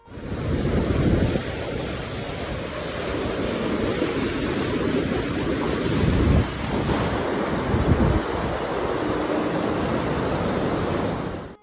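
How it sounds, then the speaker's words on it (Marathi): The flooded Krishna river near a village temple at Wai rushes in a loud, continuous roar, with wind buffeting the microphone and no talk. "सध्या पाणी इतकं वाढलंय की गणपतीच्या मंदिराला कृष्णामाई नदीचा वेढा पडलाय"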